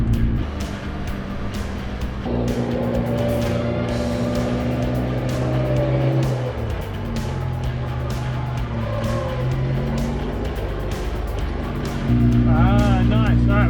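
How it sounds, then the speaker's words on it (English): 4WD vehicle being winched through deep mud in rough high country: a steady, loud engine and winch drone with shifting pitch that surges and strains, then climbs again near the end. "Alright, I'm going to pull on the winch."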